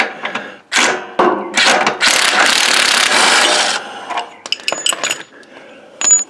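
A ratchet wrench works on a 14 mm nut on a Cub Cadet GT 3200 garden tractor during a PTO belt replacement, with bursts of rapid ratchet clicking, a long sustained ratcheting run, then scattered metallic clinks and taps close by.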